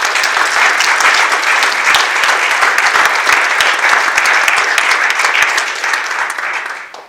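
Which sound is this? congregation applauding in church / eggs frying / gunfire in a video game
congregation applauding in church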